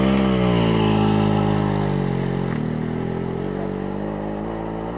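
A motorcycle in Rukungiri, Uganda, loaded with five riders, pulls away with a steady engine hum and rising harmonic drone that gradually fades as it moves off, with no talk over it.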